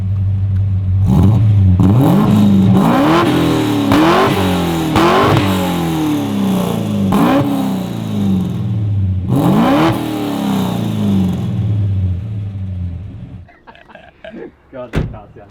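A car with a 253 engine and a custom exhaust revs hard several times, each rising and falling burst loud and close, with a door slam near the end before the engine quiets.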